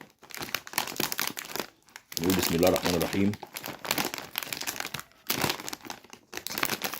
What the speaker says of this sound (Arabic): نفتح الكيس التاني